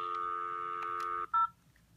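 Telephone dialing tones sound while a phone call is placed: a steady dual-tone held for over a second, then a brief louder tone pulse, followed by faint quiet.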